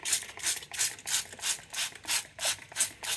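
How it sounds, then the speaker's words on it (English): Rapid, regular hissing bursts of a spray bottle spraying water onto a tissue print, about ten quick pumps in a steady rhythm, close up. "I just clean it by spraying it with water"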